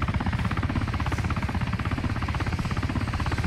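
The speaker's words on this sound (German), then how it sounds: "Und hier wird man gleich von dem Hubschrauber begrüßt." Helicopter in the video game DayZ, a steady rhythmic rotor chop with engine drone, close and loud, continuing throughout with no talking.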